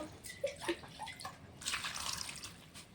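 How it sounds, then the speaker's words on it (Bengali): Spinach leaves being washed in water, with close splashing and sloshing, a few short drips at first and then a longer, louder swish of water partway through; no talking. "পালং শাকটা বেছে নিয়েছি, এখন ধুয়ে নেব ভালো করে। 3-4 বার ধুয়ে নেব।"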